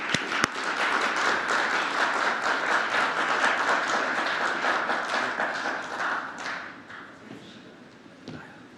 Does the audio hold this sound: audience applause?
yes